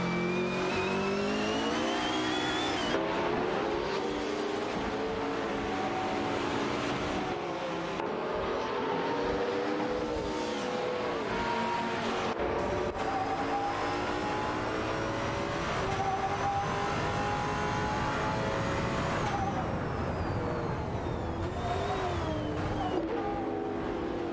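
Racing cars' engines in a video game howl down the straight, a loud, continuous roar whose pitch climbs and dips with gear changes and passing cars, with no voices over it.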